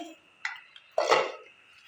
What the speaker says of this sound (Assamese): এতিয়া মই এইদৰে অলপ লৰাই দিম।